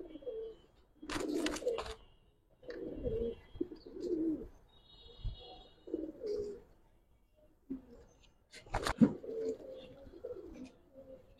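Giribaj pigeons cooing softly in low, repeated rolling phrases, with a few sharp wing flaps or knocks in between, fairly close and quiet.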